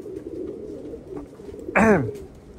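Racing pigeons, likely Spartan-line birds, landing at a loft after a short 7-mile toss on an overcast, breezy morning; a single clear coo rises near the end over a faint low background murmur.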